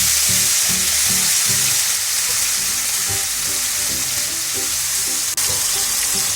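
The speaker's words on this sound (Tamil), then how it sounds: "நம்ம அரை மணி நேரம் மேரினேட் பண்ணி ஊற போட்டிருந்தோம் இல்லையா சிக்கன், அதை இப்போது எண்ணெயில் சேர்த்துக்கலாம்." Marinated chicken pieces fry hard in hot oil for a shawarma filling, a loud, dense, continuous sizzle with soft bubbling underneath and no pauses.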